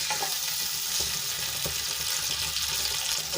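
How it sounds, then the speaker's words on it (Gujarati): Water heats to a boil in a pan for Rajasthani pakoda kadhi, giving a continuous bright hiss and bubbling fizz with a few soft clinks, close and steady. "પાણી આપણું ઉકળી ગયું છે"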